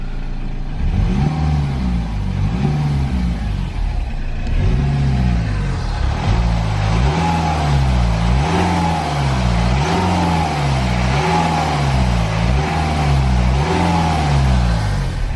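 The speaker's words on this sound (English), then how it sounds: "we can hear the turbo spooling up, but there's a hiss on this side in particular that you can definitely hear" A BMW N47 diesel engine on the move, with repeated rising and falling engine surges as the car gears up and down, a turbo spooling up, and a steady hiss running underneath, heard from inside the car.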